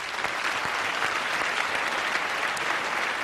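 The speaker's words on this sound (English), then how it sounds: "Everybody, let's hear it for Lalit Modi once." Dense, steady applause from a large audience at the IPL Awards 2010 ceremony, continuous and loud for the whole stretch with no talk on top.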